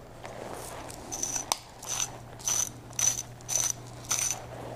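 An adjustable salt grinder mechanism cranks through coarse salt crystals in about six short, evenly spaced bursts of crunchy ratcheting grinding, close up and moderately loud over a steady low hum.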